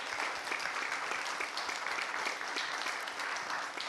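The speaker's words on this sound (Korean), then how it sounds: "박수로" Applause from young adults in a studio audience at a Buddhist broadcast program, steady dense clapping heard from a modest distance, even and unbroken throughout.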